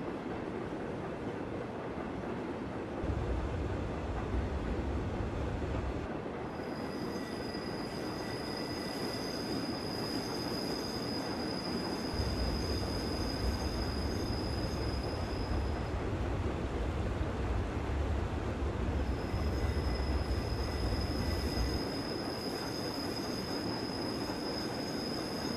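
Passenger train running on the Albula Line in Train Simulator 2016, a steady loud rumble of wheels on rail with intermittent high wheel squeal and low rolling surges, continuous throughout with no talk.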